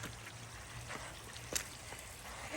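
Water runs down from the mountains across a flooded, muddy trail of slippery rocks, heard as a faint, continuous trickling wash with no voices.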